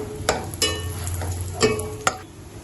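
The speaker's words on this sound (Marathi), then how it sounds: "त्या तुपात आता आपण जर्दाळू भाजून घेऊया" Apricot pieces roast in ghee in a pan, giving a faint sizzle under four sharp scraping stir strokes spaced irregularly, each close and distinct.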